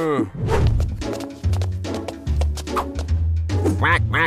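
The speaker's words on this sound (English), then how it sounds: "Quack, quack, quack!" A cartoon duck voice quacks in a quick, loud series, nasal calls stacked close together with a lively children's-cartoon music bed running underneath.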